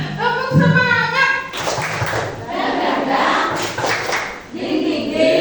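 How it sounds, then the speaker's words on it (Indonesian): A class performs a rhythmic spirit clap together, quick patterned hand claps with chanting voices over them, fairly close and loud. "Tepuk semangat."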